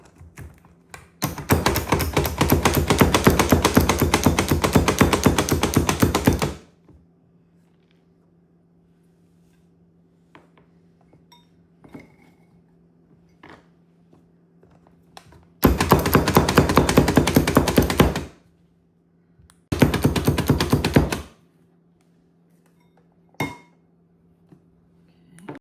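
Pecans being chopped with a knife on a board for a jalapeno popper cheese ball: one long burst of rapid, dense chopping, then two shorter bursts and a lone tap, all close and loud with quiet gaps between.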